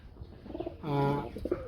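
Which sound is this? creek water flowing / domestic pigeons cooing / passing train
domestic pigeons cooing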